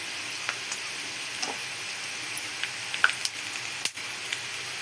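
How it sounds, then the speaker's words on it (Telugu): Peanuts and okra deep fry in a pan of oil, giving a steady, even sizzle with a few small pops and crackles, close and alone with no talking. "పల్లీలు డీప్ ఫ్రై చేసుకొని కొంచెం కరివేపాకు కూడా ఇందులోనే వేసుకోవాలి."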